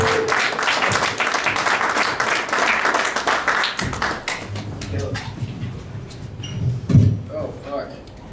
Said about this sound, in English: give a big, round, warm welcome and applause for your first comic of the evening, Mr. Teddy Cast.